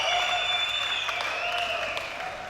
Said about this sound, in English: They are cheering the shooters